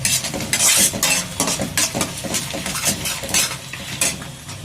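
Egg fried rice ingredients frying loudly in a pan, with busy stirring: repeated scrapes and clinks of a metal spoon against the pan over a steady sizzle, close and continuous.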